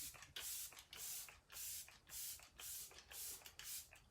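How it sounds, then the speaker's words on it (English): A makeup setting spray, a refreshing mist that smells of peppermint, is pumped again and again, giving about eight short hissing bursts in a steady rhythm, close and loud, with no talking. "I'm going to go in with our Let It Set Refreshing Spray"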